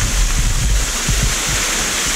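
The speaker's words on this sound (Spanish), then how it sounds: "Primera cascada." A waterfall on a route toward mysterious cascades roars as a constant broadband rush of falling water, steady and fairly loud from start to finish.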